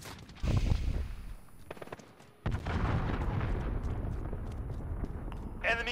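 Cruise missile blasts in Call of Duty Modern Warfare erupt as loud, rumbling booms, one early and a larger one after a brief lull, followed by sustained roaring debris and gunfire-like crackle, with speech partly mixed in.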